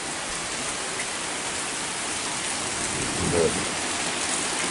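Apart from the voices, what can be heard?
heavy rain outside an old abandoned house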